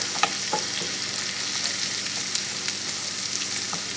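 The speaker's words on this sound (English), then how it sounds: "we're going to cook the burdock and the onions down under heat, medium heat" Burdock root and onions frying over medium heat in a pan, giving a steady close sizzle with occasional light clicks of stirring, no voices.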